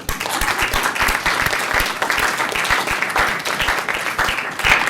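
An audience at the Tufts Poetry Awards claps for a departing judge: steady, full applause from a sizable crowd, with some louder individual claps standing out close by throughout.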